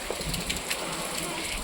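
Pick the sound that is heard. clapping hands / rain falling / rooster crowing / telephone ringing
rain falling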